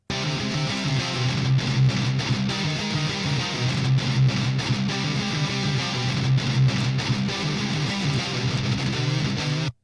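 Two double-tracked high-gain metal guitars panned left and right play together as a dense, loud, continuous distorted wall with a muddy low end and no voices.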